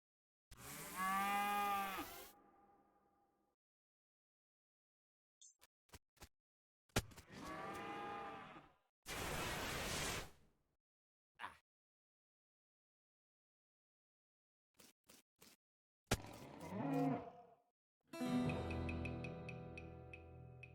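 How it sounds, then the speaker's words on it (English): A cow skull monster floating in a cloud of flames in the video game West of Loathing lets out several loud, drawn-out synthetic moos, separated by silences and short clicks and bursts of game sound effects, with no talking. "You defeat that nasty cow skull floating in a cloud of flames"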